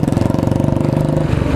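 A motorcycle engine runs on the road with a loud, steady, rapidly pulsing putter, close and continuous without any obvious revving.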